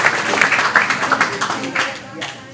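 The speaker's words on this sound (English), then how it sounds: "Let's give them another round of applause for having no fear." Audience applause at a city parks and recreation workshop, a brief burst of many hands clapping loudly, thinning and fading toward the end.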